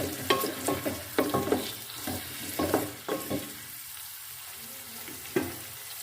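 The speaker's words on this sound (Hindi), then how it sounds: "अब इसमें हम प्याज डालेंगे और इसको हम फ्राई कर लेंगे प्याज" Onions frying in hot cooking oil, a steady close sizzle broken by scraping stirs and clacks from a utensil, with no voices heard.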